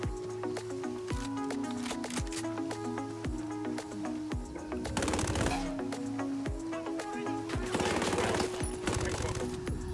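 Rapid bursts of submachine gun fire from P90 and Scorpion EVO 3 weapons in the Ghost Recon Wildlands shooter, loud and repeated, with several sustained volleys near the middle and end over steady game ambience.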